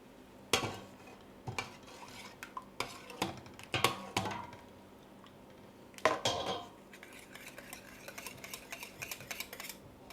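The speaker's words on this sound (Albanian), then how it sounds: "unë do t'i hedh kosin, avash" A spoon scrapes and clinks against a pot while yogurt is stirred into chicken soup, in sharp irregular knocks and scrapes with quieter gaps between them and no talking.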